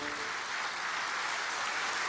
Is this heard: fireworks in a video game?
no